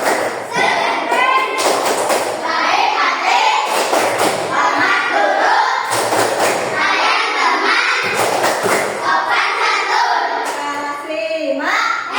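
A class of fifth-grade pupils in an Indonesian primary classroom claps out a rhythmic routine, loud bursts of claps in a repeating pattern mixed with the children's voices chanting along.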